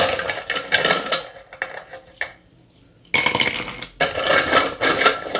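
Ice cubes rattle and clink into a glass while a mojito is prepared, in loud bursts of clattering separated by brief pauses, with a final sustained tumble of ice near the end.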